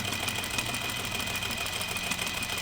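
A home sewing machine stitches heavy thread through denim jeans, producing a steady, continuous mechanical whir with no pauses, close and fairly loud, with no voices.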